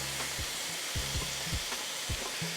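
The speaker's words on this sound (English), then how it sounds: "once your butter is partially melted, we're going in with the peppers and the onions." Peppers and onions hit partially melted butter in a skillet for a Philly cheesesteak dip, giving a steady close sizzle with soft stirring scrapes and small pops throughout, no voices.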